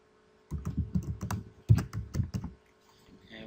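Quick burst of typing on a computer keyboard, a couple of seconds of close, crisp key clicks in an uneven run, then a brief pause and faint soft taps.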